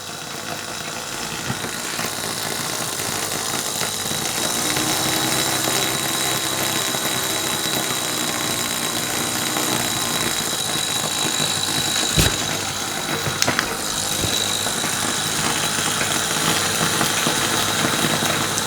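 A Lutz Hielscher miniature model steam engine runs fast and steady, a continuous close mechanical whir and light rattle with a couple of sharp clicks partway through.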